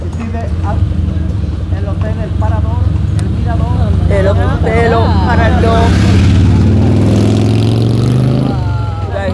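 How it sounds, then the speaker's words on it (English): Loud engines rumble and rev close by as motorbikes pass along a busy street in Malaga, Spain, with a voice talking over the traffic noise. "sorry for the noise. There's a lot of motorbikes here."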